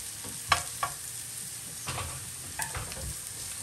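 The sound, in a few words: carrots and peppers stir-frying in a pan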